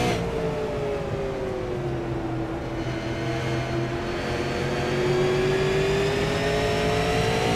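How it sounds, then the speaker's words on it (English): Super late model race car coming off turn 4 at Five Flags Speedway during a SARA Fall Brawl race night, a sustained engine roar with falling and rising pitch as the throttle is lifted and reapplied, loud and steady, no talking. "You can hear how much he has to let off and work that throttle as he comes off turn 4"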